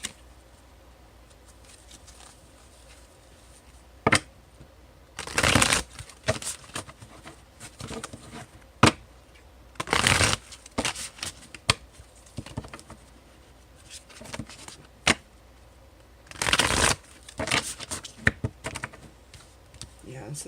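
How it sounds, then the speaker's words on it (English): Psychic Tarot cards shuffled by hand, quick soft riffling and tapping bursts scattered over about twenty seconds, close and intermittent with faint background noise. "I want to pull a card from my Psychic Tarot."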